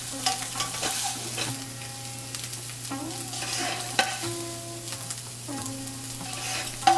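Scrambled egg frying in hot oil for an egg tarka dal, a soft steady sizzle with intermittent scraping and stirring clatter from a utensil in the pan, heard alone without speech.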